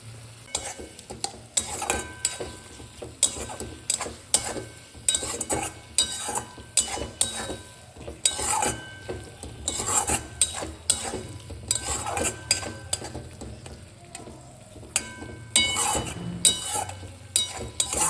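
Spices with Kashmiri chili stir-fry in a pan for egg curry, with a constant sizzle and a rhythmic run of loud spatula scrapes and clinks against the metal, close up and with no talking.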